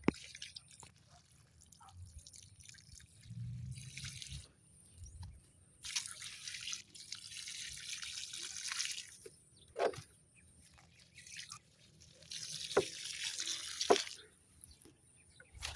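Water splashing and trickling in intermittent bursts with drips between them as eggplant and okra plants in a vegetable garden are watered, close by, with no talking.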